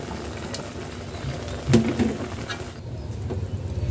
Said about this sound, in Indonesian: Selanjutnya, setelah mendidih